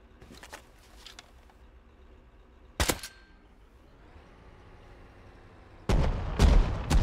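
A bean can grenade goes off in Rust on PC: a sharp bang near the three-second mark, a long quiet stretch, then a louder, heavier blast with crackling aftermath near the end.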